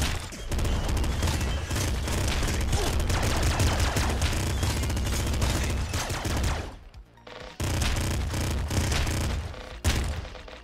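Assault rifle fire in a video game rattles in dense, loud, sustained volleys with heavy booms, broken by a couple of brief pauses near the end.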